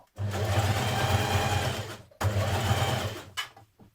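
Close, loud steady whir of a sewing machine stitching a bulky unlined coat seam around a curve, two sustained runs split by a brief pause, then a short stop and restart.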